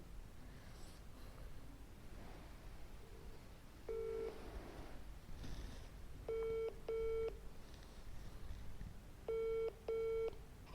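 Mobile phone keypad dialing tones during a Punjabi drama scene, several short bright beeps in pairs and clusters separated by pauses, clear over a faint, quiet room background with no talk.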